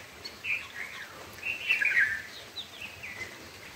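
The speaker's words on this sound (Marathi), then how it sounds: "चिमण्यांचा चिवचिवाट कलकलाट." Sparrows chirp and twitter in a lively, overlapping chatter outside a home on a rainy morning, with bright calls rising and falling over a few seconds and no talking.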